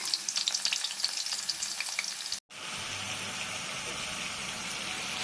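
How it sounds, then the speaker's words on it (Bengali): Chopped onions fry in hot oil with a bright, crackling sizzle, broken by a brief silent cut, then a steady, louder hiss of frying continues close by. "তেলটা গরম হয়ে গেলে পেঁয়াজ কুচি করে পেঁয়াজ কুচিটা যখন লাল হয়ে যাবে"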